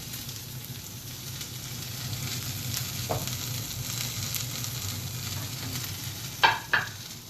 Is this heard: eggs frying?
yes